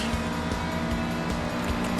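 Chevrolet Camaro Z/28 drifting in the mobile racing game Need for Speed No Limits, a steady loud engine drone with tire noise held throughout, no voices.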